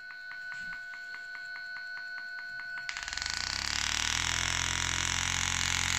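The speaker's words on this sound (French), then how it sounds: "Vous voyez, mon moteur il est quand même assez puissant. On va le mettre à sa vitesse maximale." A DC motor driven by PWM from a Seeeduino XIAO through an L298N driver, run up to maximum speed: a thin, pulsing electronic whine gives way abruptly to a loud, steady roar with a whirring hum, close and alone.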